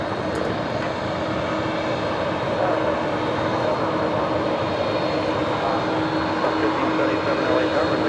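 Cargo aircraft taking off from runway 25 right at LAX: a loud, steady, broadband engine roar filling the whole stretch, with tower radio voices over it.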